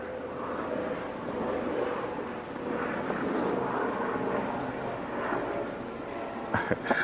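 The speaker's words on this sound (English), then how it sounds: "we got a plane flying over, right?" A plane passes overhead outdoors, a broad steady engine roar that holds for several seconds at moderate distance, with a few brief knocks near the end.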